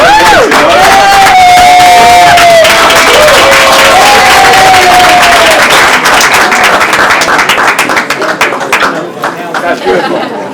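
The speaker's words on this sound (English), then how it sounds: "Listen to the round of applause, you know?" An audience at an annual awards ceremony breaks into loud applause and cheering, with shouts and whoops over the clapping and crowd chatter, then the applause thins out toward the end.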